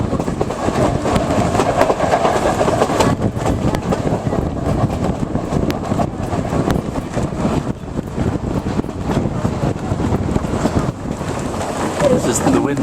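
A train running on its tracks in the mountains, heard from inside a car by an open window, a loud continuous rumble and rattle with wind noise throughout.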